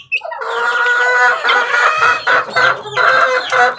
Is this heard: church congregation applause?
no